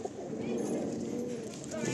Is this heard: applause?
no